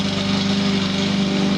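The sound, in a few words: neighbour's lawn mower running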